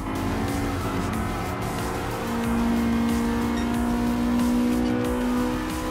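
A Honda Integra Type R race car engine in Gran Turismo Sport holds a steady high-revving drone, swelling slightly louder in the second half, heard close and continuous with no talk.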